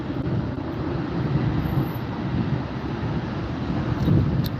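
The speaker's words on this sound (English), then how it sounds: "Look at this little baby plane taking off." A small plane taking off at Teterboro airport, a steady broad engine roar with wind buffeting the microphone, loud and continuous throughout with no talking.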